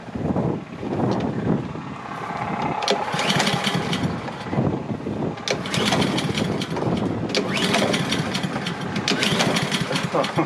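A lawn mower engine fed on windshield washer fluid runs close and loud with a rough, sputtering drone, surging unevenly over about ten seconds amid wind noise.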